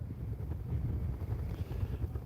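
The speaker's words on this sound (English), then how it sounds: "It's too windy and too cold" Cold wind blows across the microphone during fly fishing, a continuous low buffeting rumble with gusty swells and no other clear sounds.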